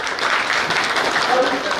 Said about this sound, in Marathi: त्याच्यासाठी एकदा जोरदार टाळ्या झालेच पाहिजे